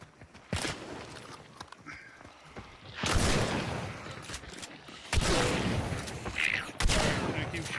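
Video-game gunfire rings out in the Mammon's Gulch map: four or five loud, sharp shots with reverberant tails, spaced a second or two apart, over steady background noise while players talk.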